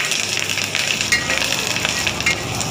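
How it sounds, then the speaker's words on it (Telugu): Onions fry with salt and a sprig of curry leaves in a pan, giving a steady, dense sizzle that stays even and close throughout, with light stirring and no talking. "ఆనియన్ను కొంచెం సాల్ట్ యాడ్ చేసుకొని మంచిగా ఫ్రై చేసుకోవాలి, లైట్ గోల్డెన్ బ్రౌన్ వచ్చే వరకు"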